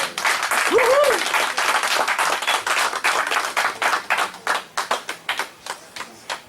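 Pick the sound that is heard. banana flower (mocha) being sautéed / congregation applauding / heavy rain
congregation applauding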